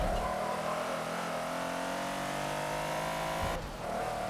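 A race car in the Forza video game at Le Mans threads the second chicane on the Mulsanne straight, its engine screaming and rising steadily before a sharp drop in revs with tire squeal, loud and close.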